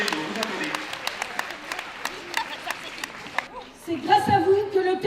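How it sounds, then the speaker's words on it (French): Audience applause at a Téléthon charity event in Villemomble, a steady patter of many hands clapping before a voice begins talking over the thinning crowd. "Vous pouvez nous applaudir"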